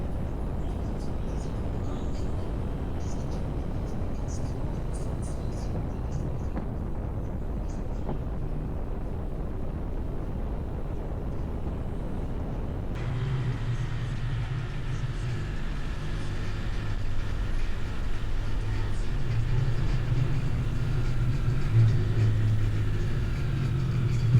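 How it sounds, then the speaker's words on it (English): A motorcycle is ridden along the Pennsylvania Canal, its steady engine drone mixed with heavy wind rush against the microphone. The engine note deepens and grows louder partway through. "So here we're riding along the Pennsylvania Canal."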